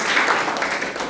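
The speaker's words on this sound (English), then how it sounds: "So with a big round of applause" Applause at a Toastmasters meeting, a dense wash of many hands clapping steadily for a brief moment, close and fairly loud with no voices over it.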